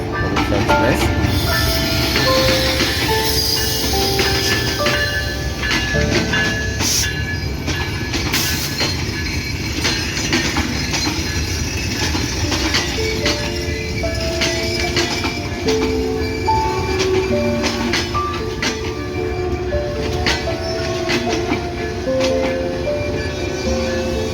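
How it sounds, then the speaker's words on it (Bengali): Rupsha Express pulling into Akkelpur railway station on line one, a long rolling rumble with clanking wheels, metallic squeals and clinks, and faint voices on the platform in the background. "অত্যন্ত জনপ্রিয় একটি ট্রেন এই রূপসা এক্সপ্রেস এই মুহূর্তে আপিলপুর রেল স্টেশনের এক নম্বর লাইনে প্রবেশ করছে"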